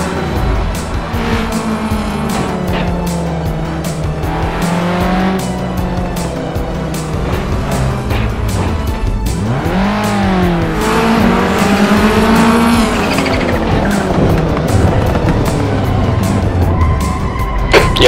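Race car engines revving and shifting in Assetto Corsa rally racing on Union Island, loud and continuous, with rising and falling engine pitch and tire squeal through corners.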